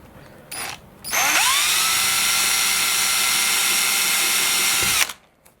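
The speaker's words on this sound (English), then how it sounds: "think I already have a 2mm drill bit in my drill." A power drill fitted with a 2mm bit whirs loudly and steadily for about four seconds while drilling during a model glider tail boom build, preceded by short trigger blips and ending with a sharp cutoff.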